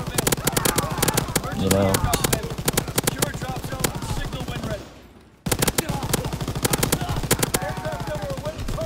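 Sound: MG42 machine gun firing in a video game

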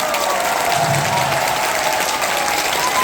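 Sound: fan meeting audience applause

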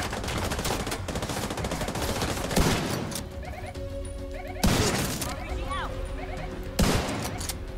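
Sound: gunfire in the video game The Division 2

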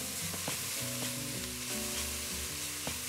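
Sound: carrots sautéing in oil with onion and garlic

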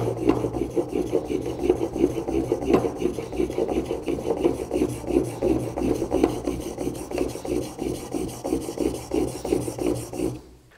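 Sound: chisel edge being sharpened on a cheap water stone

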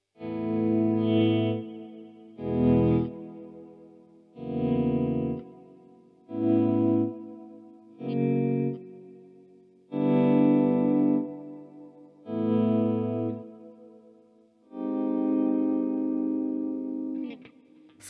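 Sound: Harley Benton CST-24T P90 electric guitar playing funky chords

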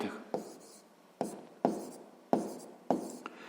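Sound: writing by hand with pen on paper

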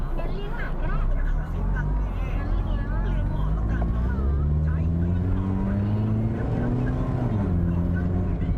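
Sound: Honda City Type-Z 2001 VTEC car being driven

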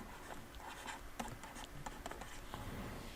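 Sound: writing out a math solution

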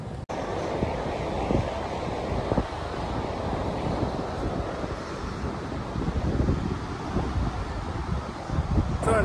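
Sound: waves and wind at a beach on Lanzarote

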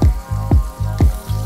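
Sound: fish frying in a pan for mustard fish curry

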